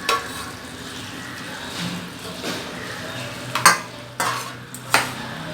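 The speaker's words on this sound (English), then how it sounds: "মশলাগুলো দেওয়ার পরে ফ্লেমটাকে লো করে নিয়ে তারপরে বাকি মাছটাকে ছেড়ে দিলাম" Pomfret fish frying with spices in a pan over a low flame, a steady quiet sizzle with a few sharp clinks of a utensil against the pan near the end.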